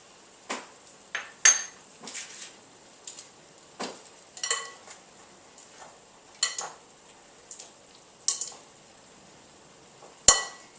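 Broccoli tossed with grated Parmesan in a bowl: a scattered series of soft clinks and scrapes of utensils against the dish, close and fairly quiet, with brief pauses between strokes.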